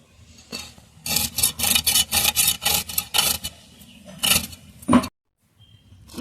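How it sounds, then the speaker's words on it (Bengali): Silver carp being cut up by hand for a Bengali recipe, heard as a run of close, loud rhythmic rasping scrapes in bursts, then a final sharp stroke before near silence. "মাছটা কাটলাম"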